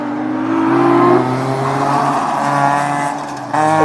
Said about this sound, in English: that's what it's like to see an autocross from the outside